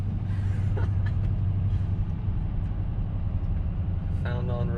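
A Corvette bought untested at auction, on a long road trip, runs at full throttle with a steady loud low engine roar throughout, and a brief voice-like tonal burst near the end.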